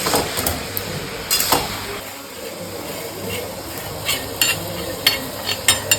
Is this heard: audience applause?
no